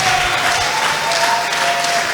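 Congregation applause at a church workers' meeting fills the whole stretch: steady, dense clapping from many hands in a hall, loud and close, with no voices over it.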